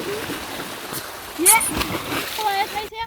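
People splash in a swimming pool, with one brief splash cutting through loud, close talking and water noise.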